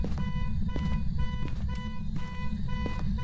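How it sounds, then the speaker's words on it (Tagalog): An alarm in The Stanley Parable video game goes off as a repeating series of short electronic beeps at a regular rhythm, sounding over a constant low rumbling background without speech. "Ayan na, nag-alarm eh."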